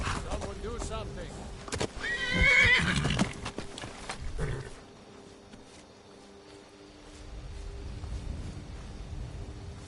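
A horse in the video game Skyrim neighs loudly once, a clear whinny rising above game sounds and someone talking over it, then the scene quiets to a low background.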